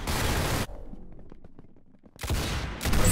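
Rapid gunfire from the mobile shooter game Arsenal: two loud, dense bursts of shots, one at the start and one at the end, with a quieter stretch of scattered game sounds between them.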